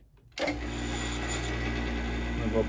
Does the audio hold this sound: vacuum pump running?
yes